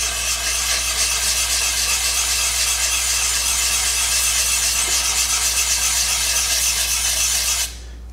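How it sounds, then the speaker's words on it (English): Copper water block rubbed in circular motions on 220 grit sandpaper laid on glass, a steady close gritty scraping hiss that stops abruptly near the end. "we're gonna lay the block down and start going in a nice circular motion"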